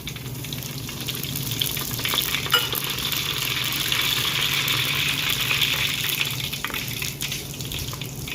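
Mustard seeds, fenugreek, cumin and asafoetida crackle and sizzle in hot oil, a steady bright frying hiss that swells and stays even, with no voices.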